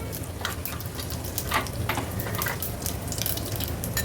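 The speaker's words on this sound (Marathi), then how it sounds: "त्याच्या सोबतीलाच अर्धा चमचा जिरं घातलं आहे फोडणीला, कढीपत्त्याची पानं, थोडंसं हिंग" Cumin seeds, curry leaves and a pinch of asafoetida tempering in hot oil in a pressure cooker, giving a continuous crackling sizzle with brief sharper pops.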